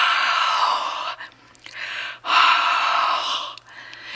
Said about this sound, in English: you're just breathing your hot breath on it